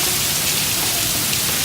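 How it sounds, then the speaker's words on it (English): Rain falls steadily as an even, continuous hiss of drops on surfaces, fairly loud and unbroken through the short stretch, with no voices. "Not that heavy, but it's raining."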